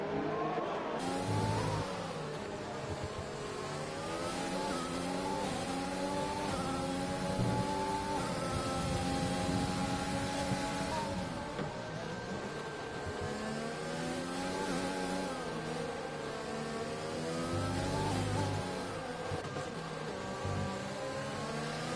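Formula 1 race cars in a racing video game at Abu Dhabi, engines droning and rising in pitch as they accelerate side by side, steady and loud throughout with layered engine tones.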